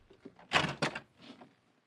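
A door opens in an old-time radio drama: two close, solid knocking thumps in quick succession, followed by a faint trailing rattle in a quiet room.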